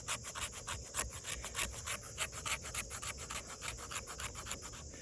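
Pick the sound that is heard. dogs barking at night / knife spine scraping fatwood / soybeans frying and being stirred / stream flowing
knife spine scraping fatwood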